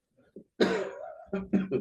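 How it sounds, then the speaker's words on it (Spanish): A few rough, hoarse coughs from a nearby person, one longer burst followed by two or three shorter ones. "perdonen que estoy con tos"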